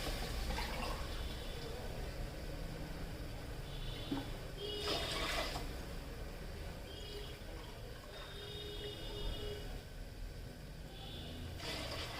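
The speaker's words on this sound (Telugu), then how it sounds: "రైస్కి మనం ఎసరు పోసుకోవాలండి గ్లాసున్నర బియ్యానికి మూడు గ్లాసుల నీళ్ళు" Water poured from a glass into a pot for Telangana-style bagara rice, a soft continuous splashing trickle heard fairly faint in a kitchen with a few clinks in between.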